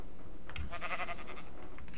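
Minecraft sheep bleat loudly and close, a single wavering blocky baa over steady game background noise, with no talking.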